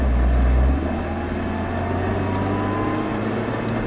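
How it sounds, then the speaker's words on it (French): A car on a race track, with Ferraris also running there, gives a low engine drone that steps down after a loud opening moment, then holds at a steady, muffled level. "tu peux accélérer"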